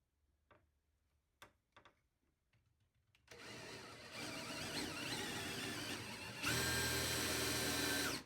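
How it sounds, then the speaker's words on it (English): A power drill bores into a wooden chair part during a restoration. A few sharp taps come first, then the motor whirs up into steady drilling and rises to a higher, louder pitch near the end before stopping. "then I can drill the other one"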